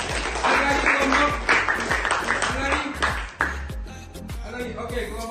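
Applause from a group of teachers at a best-practice sharing session, a steady patter of clapping lasting throughout and mixed with people talking nearby.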